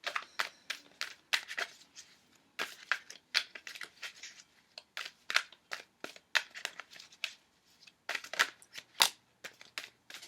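Tarot cards being shuffled and drawn by hand: a quiet, close series of crisp papery flicks and snaps in irregular bursts, with brief pauses between them.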